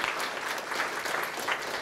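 Applause rises from the audience at a doctoral degree ceremony, a brief, even burst of many hands clapping in a hall.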